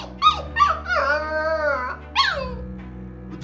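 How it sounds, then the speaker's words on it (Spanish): A dog close by lets out a few sharp yips and a drawn-out, howling whine, loud and tonal, with short pauses between the calls. "¿Por qué ladras?"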